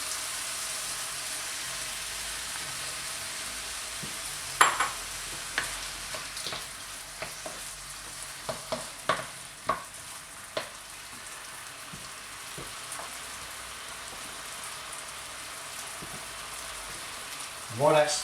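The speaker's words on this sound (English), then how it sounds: "it's browning off nicely. just going to add the frozen peas in with it." Liver and kidney browning in a pan with frozen peas added, a soft continuous sizzle with scattered sharp crackles and pops, fairly quiet and close, no speech.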